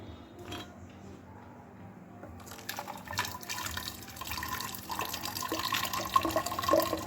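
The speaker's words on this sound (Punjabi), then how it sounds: "ਅਸੀਂ ਹੁਣ ਇਹਨੂੰ ਛਾਣ ਲੈਣਾ ਆ ਜੱਗ ਦੇ ਵਿੱਚ" Sugarcane juice trickles and splashes steadily through a strainer into a jug, growing louder and busier midway through, with no voices.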